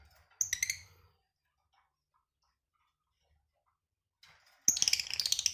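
Songbird singing in two short bursts of bright, rapid chirping notes, a brief phrase at the start and a louder one at the end, separated by near silence.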